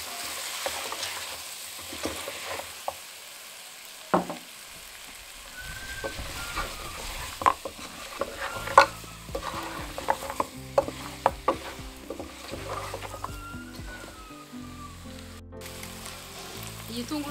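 Chopped onion frying in a pan with occasional stirring, a soft steady sizzle under sharp scattered clicks and scrapes of a utensil against the pan, fairly close.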